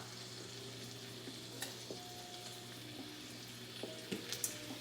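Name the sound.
pan sizzling while cooking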